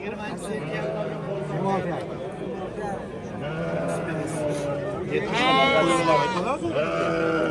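Goats and sheep bleat loudly and repeatedly at the Angren livestock market, several calls rising over a busy crowd of people talking nearby.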